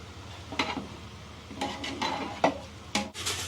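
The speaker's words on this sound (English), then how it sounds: "Now yogurt is going in all at once." A spoon scrapes and knocks inside a large biryani pot as yogurt is stirred into the chicken masala, a few distinct clanks and scrapes spaced about a second apart over a soft background hum.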